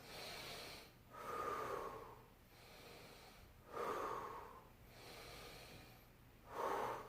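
Deep, slow breaths taken while lying on the back in a 90-90 rotated low back stretch: three rising and falling airy inhales and exhales, steady and close, with no talking.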